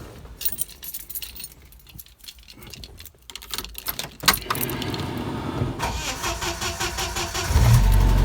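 An old Jeep engine in cold weather, with keys jangling first, then the engine cranking and catching into a loud, steady mid-pitched idle that runs to the end, close by and with no talk.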